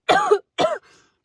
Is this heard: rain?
no